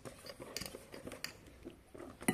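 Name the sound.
mixing hot cake batter in a mixing bowl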